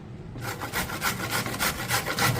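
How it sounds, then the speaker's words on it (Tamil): Carrot and beetroot are rubbed against a hand grater in quick, regular scraping strokes, about a dozen rasps in a steady rhythm, close and moderately loud with no talking. "இதை வந்து நம்ம துருவிக்கிறோம் கேரட்டையும் துருவிக்கிறோம்"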